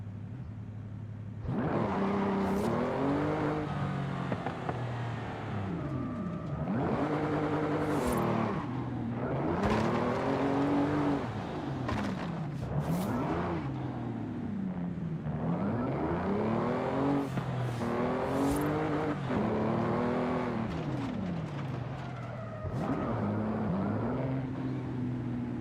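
In Gran Turismo 7, a race car with a seven-speed sequential gearbox revs hard, climbing in pitch, and cuts sharply on each upshift. Repeated rising engine sweeps run for the whole stretch, loud and close.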